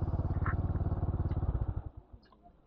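A motorcycle engine runs with a steady, throbbing beat close by on a ride to Mt. Pulag, then cuts out as it is parked, leaving quiet with faint background sounds.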